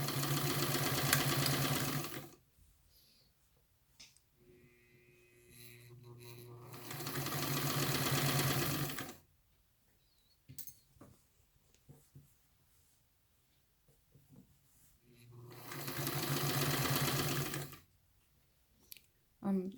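A sewing machine stitches a sleeve seam in three long, steady whirring runs, separated by quieter pauses where a person speaks and small clicks and handling noises come through.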